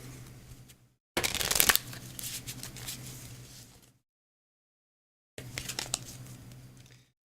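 Two bursts of cards being shuffled, a sharp riffle then a longer brisk shuffle, a pause of silence, and another shuffle near the end, close up.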